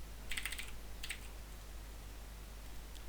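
A computer keyboard makes two short bursts of quick keystroke clicks, close and fairly soft, over a low steady hum with quiet pauses between and no speech.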